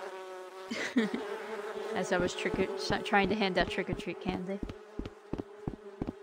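Bees buzz in a spooky Halloween house in the Rec Room game, a thin, droning hum running under a voice talking throughout.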